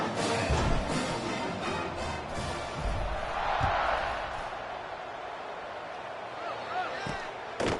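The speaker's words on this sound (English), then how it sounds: "this crowd now ready to get behind them" A college football stadium crowd for Coastal Carolina at Old Dominion roars before a kickoff, a broad sustained rumble that swells briefly, with a commentator talking over it.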